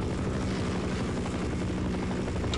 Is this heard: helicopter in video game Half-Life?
yes